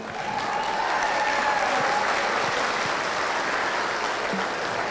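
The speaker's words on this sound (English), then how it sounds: "Let's give them one more round of applause." Audience applause at a youth fair market steer show, a broad, steady wash of many hands clapping at even loudness for about five seconds, with no talking.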